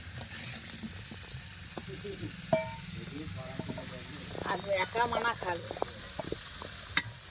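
Potatoes frying in oil in a wok over a clay stove, a soft continuous sizzle with scattered clinks and scraping knocks of a utensil, fairly quiet, with occasional faint background voices.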